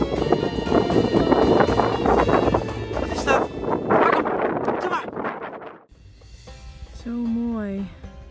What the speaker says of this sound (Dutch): Voor de intense wind die je ook hoort nu.